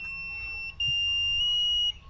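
A high, steady electronic tone from a SkyRC Q100neo Quattro battery charger sounds continuously, jumping louder partway through and holding before cutting off, with faint low hum underneath.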